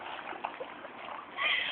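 A dog named Bartelby splashes about while jumping in puddles, giving a close, continuous watery sloshing and splattering with a brief louder splash near the end.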